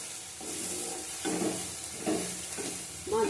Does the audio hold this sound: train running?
no